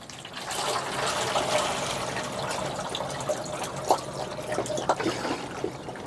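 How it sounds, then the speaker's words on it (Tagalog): Water pours steadily from a container into a bowl for thirsty puppies, a continuous splashing trickle for several seconds with a few brighter splashes near the end, fairly close. "Ayan, maglagay tayo ng maraming tubig."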